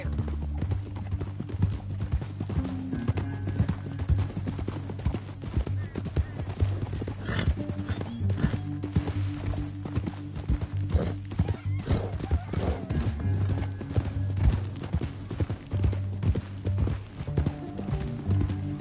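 Horse hooves clip-clop in a rhythmic run in Red Dead Redemption 2, steady thudding steps under a low musical score, with occasional whinnies and soft game sounds mixed in.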